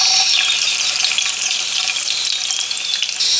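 Hot desi ghee crackles loudly and continuously in a pan before chopped garlic and whole red chillies go in for moong dal tadka, a dense, close hiss filling all three seconds with no voices.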